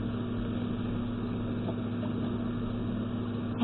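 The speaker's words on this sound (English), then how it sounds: "I think you can hear my background, my fan in the background" An electric fan runs in the background, giving a faint, steady hum with a constant tone that holds unchanged throughout with no other sounds.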